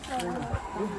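Short burst of poultry clucking and chattering close by at a private resort in Baras, Rizal, with turkeys and geese present, mixed with a person speaking.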